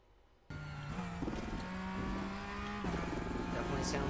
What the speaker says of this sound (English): Definitely sounds like a Porsche.